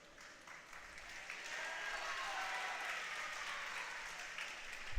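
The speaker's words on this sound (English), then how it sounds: "Feels like the teams are trying to out-cheer each other." Spectators applaud and cheer steadily at a boys' high school diving meet between Maple Grove and Spring Lake Park, a broad, sustained wash of clapping that swells slightly and holds for the whole stretch.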